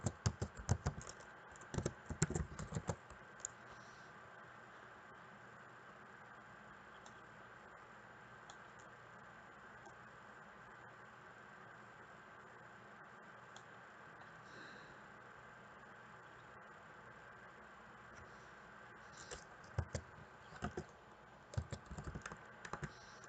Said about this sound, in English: when I'm done typing this out